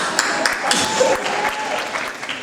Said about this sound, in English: I want to give you an applause myself.